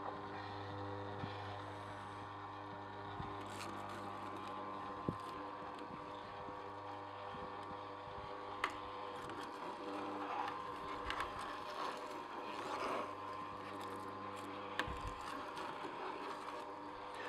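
An Omega Juice Cube 300S juicer steadily hums as it presses iceberg lettuce and celery, a continuous motor drone with occasional faint clicks and crunches, quiet and unbroken.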